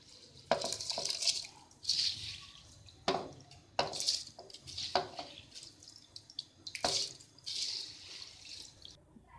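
Rice goes into a pot of boiling water in a home kitchen. Several separate splashing pours and patters arrive in bursts with short gaps between them, fairly close and faint, and no one speaks.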